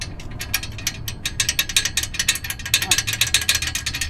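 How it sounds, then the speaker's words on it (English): BMW E46 M3 exhaust rattling against a heat shield, a rapid metallic clattering buzz that comes in irregular bursts over a low engine rumble, close and continuous for several seconds. "it looks like it might be rattling against one of the heat shields"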